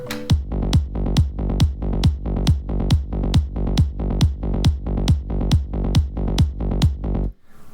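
Thumping kick drums land in a steady four-on-the-floor pattern, with a sidechained bass ducking under each hit and swelling back between them, a loud, even pumping groove that stops just before the end.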